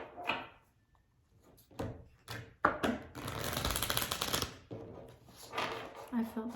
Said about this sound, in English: felt like shuffling a little bit more